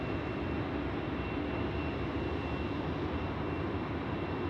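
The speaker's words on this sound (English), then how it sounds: "Jetstar just coming in onto the apron here in front of us." A Jetstar airliner taxis onto the apron at an airport at night, a steady broadband jet roar filling the air evenly without changes in loudness or any talk.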